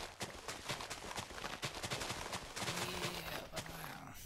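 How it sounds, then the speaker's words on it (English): Rapid crackling explosion bursts in the Minecraft video game, a dense, busy string of sharp pops and blasts that swell louder in the second half, with no speech. "Explosion! Explosion!"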